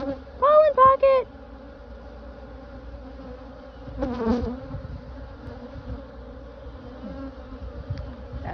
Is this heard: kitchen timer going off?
no